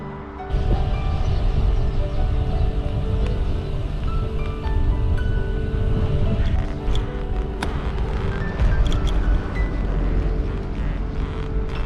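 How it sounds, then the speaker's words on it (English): Continuous low rumbling of a train station in Taiwan, with a heavy droning hum and occasional metallic clanks and ticks throughout. "I'm at the train station"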